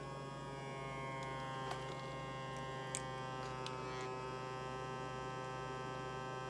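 A Navage powered nasal cleaner runs with its suction on, giving a steady electric hum and buzz like a small motor. It drones on unbroken at an even level, with a few faint clicks over it and no talking.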